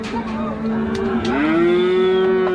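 Cattle at a livestock market in Rajshahi, where cows and buffalo calves are sold, give a long, loud, drawn-out moo that swells and holds steady, close by over a busy market background.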